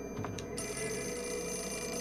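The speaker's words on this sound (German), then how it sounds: "Wo ist denn jetzt das Telefon hier?" An old telephone bell rings in the Project Zero 4 game, a rapid metallic trill repeating over a dense, droning background.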